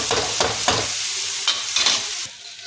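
Black chickpeas (kala chana) fry and are stirred in a pan over a low flame, giving a close, loud sizzle with rhythmic scraping pulses every half second or so.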